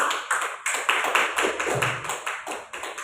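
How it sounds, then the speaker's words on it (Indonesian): A burst of applause from a seminar audience of teachers, many hands clapping in a dense, steady patter that swells and dips slightly. "Boleh tepuk tangan ya"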